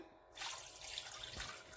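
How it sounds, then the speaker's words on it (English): Water runs from a kitchen faucet over raw chicken being rinsed with a splash of vinegar, a steady close splashing that starts abruptly and continues without a break. "I'm going to go ahead and wash with some water and a little vinegar"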